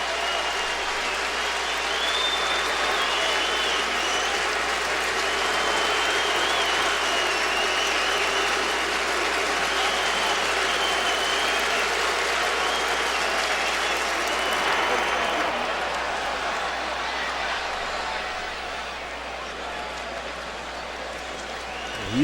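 A packed Yankee Stadium crowd at a 2007 playoff game against Cleveland roars and applauds steadily for pitcher Hughes, a dense, sustained wash of cheering that swells slightly midway and stays loud throughout.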